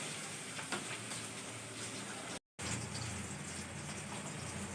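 Pui shak greens frying with a fish head in a pan, a steady moderate sizzle and hiss throughout, briefly broken by a short silent gap midway, with no talking.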